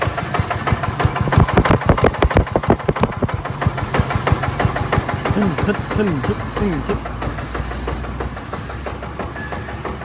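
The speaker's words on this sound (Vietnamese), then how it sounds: "tiếng máy nổ thì thầm không đổ hơi đổ hám gì hết" A Yanmar NF80 diesel engine coupled to a Yanmar YA80 tiller with very large wheels runs nearby, its rapid knocking beat loud at first and then settling into a steadier idle. Someone speaks briefly.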